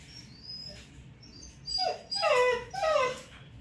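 A dog whines in high, wavering whimpers, first faintly and then in several louder drawn-out cries close by.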